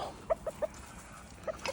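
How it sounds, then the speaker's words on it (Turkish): Anatolian village chickens clucking, with five or six short, soft clucks in two bursts, the first three quickly spaced, then a pause before the last few, fairly faint with no talk. "bildiğimiz bizim Anadolu köy tavuğu"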